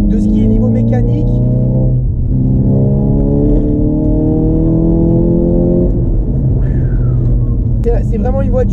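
A stage 2+ tuned SEAT Ibiza Cupra accelerates through the gears, its engine note climbing steadily in loud, rising pulls with a brief shift break, heard close up with a voice talking briefly near the end.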